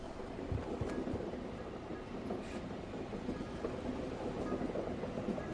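A train runs through a station in a video game as a steady, continuous rumble with faint clattering, heard alone without voices.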